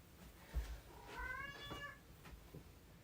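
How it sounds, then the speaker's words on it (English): A cat meows a few times in the distance, soft and drawn out, against a quiet room. "The famous cat meowing in the background."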